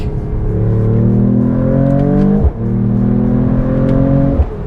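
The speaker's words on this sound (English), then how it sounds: "That is one smooth straight 6." A 2026 Mercedes-AMG E53 Hybrid wagon's straight-six revs up strongly with a smooth, rumbly tone, and its 9-speed automatic snaps through two quick downshifts, each followed by rising engine pitch, loud and close from inside the cabin.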